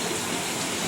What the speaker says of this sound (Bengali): ছনু পানি পড়ছে বাইরে খুব জোরে